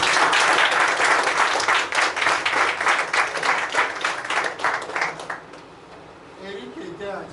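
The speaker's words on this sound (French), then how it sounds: "par un grand applaudissement" Applause at a farewell gathering for a departing staff member: a crowd claps steadily and fairly loudly for about five seconds, then fades out into quieter room sound with faint voices.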